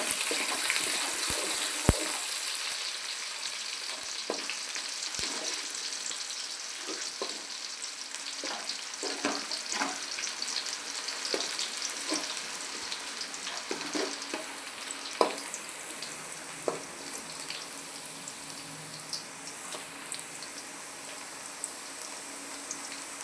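Steady crackling sizzle of onions frying in hot oil with curry leaves for tempering, with scattered sharper pops and spits throughout, no talking.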